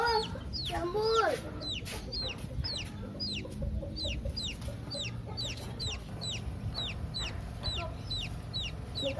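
Chickens cluck in a rapid, repeated series of short calls that carries on throughout, with a rooster giving a rough call near the start, all over a busy outdoor background.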